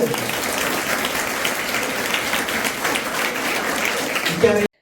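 Dense, sustained applause from an audience at a panchayat-level water purifier inauguration and anti-drug awareness event, filling the whole stretch at an even level before cutting off abruptly.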